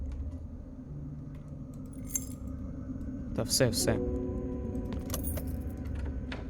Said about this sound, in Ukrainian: Ага, ось і ключі.